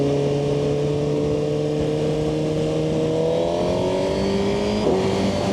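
A Suzuki GSX-R1000R sport motorcycle engine drones steadily with smooth pitch changes as it quick-shifts gears, heard continuously without talking.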